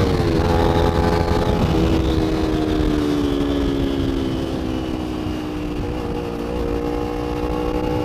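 A Kawasaki Ninja 250 motorcycle engine drones loud and close throughout while racing cars, its pitch holding high and easing slightly downward as it runs at sustained high revs.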